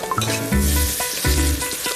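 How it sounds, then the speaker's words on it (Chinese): Scallions and garlic stir-fried hard in a hot wok: a bright, close sizzle with rhythmic pulses as the aromatics are tossed, over a couple of short bursts, with no talking. "把葱花和大蒜爆炒一下，"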